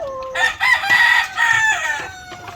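A barred rock and native crossbreed rooster crows once, loud and close, a long strained call rising and falling over about two seconds.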